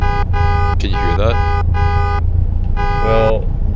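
A car horn honks repeatedly in the Assetto Corsa racing game, five or six loud, buzzy blasts in an irregular rhythm over a steady engine hum, with a voice talking over part of it.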